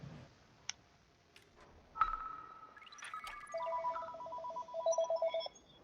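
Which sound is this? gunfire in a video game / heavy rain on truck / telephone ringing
telephone ringing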